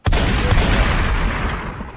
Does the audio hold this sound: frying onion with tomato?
no